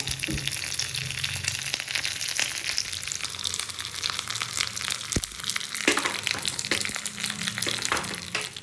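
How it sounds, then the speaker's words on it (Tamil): Mustard seeds, chana dal and three chillies tempering in hot oil for peanut chutney, a continuous loud sizzle and crackle with scattered pops and stirring clatter throughout. "கடுகு, கடலைப்பருப்பு போட்டதுக்கப்புறமா 3 மிளகாய் போட்டுக்கோங்க"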